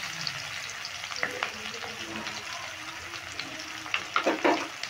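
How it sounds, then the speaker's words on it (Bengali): Chopped onion and slit green chilies fry in oil with tempering spices, giving a steady close sizzle broken by scraping stirs that grow louder near the end. "এবার ফোড়নের সঙ্গে পেঁয়াজ আর কাঁচা লঙ্কাটা একটু নেড়ে ভেজে নেব"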